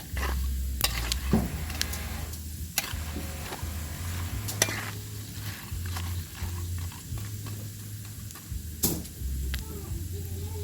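Food fries in hot oil with a steady sizzle while a utensil stirs and scrapes against the pan in irregular knocks and clinks, close up, with someone speaking at times over the cooking.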